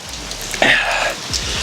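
Steady rain falls outdoors at a natural light springs photoshoot, a continuous broadband patter with a brighter splashing burst partway through and a few low thumps near the end.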